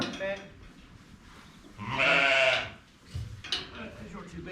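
A sheep gives one loud, wavering bleat in the middle while people chat around it, with softer animal sounds and voices before and after.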